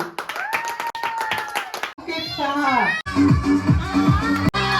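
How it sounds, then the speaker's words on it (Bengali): Loud clapping rings out during a children's candle game at a family Mangal Chandi puja, with quick rhythmic claps under lively voices and singing, the clapping growing busier toward the end. "জোরে হাততালি"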